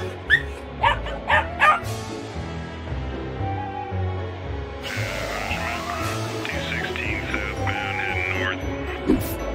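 A dog lets out several sharp barks and yips, then whines and whimpers in high, wavering cries over low background noise.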